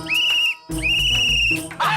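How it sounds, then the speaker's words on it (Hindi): A handheld whistle is blown at a celebration, two sharp shrill blasts in quick succession, loud and close, with a brief bit of noise at the very end. "अब आपको भी कोमल भाभी के लिए सीटी बजानी पड़ेगी"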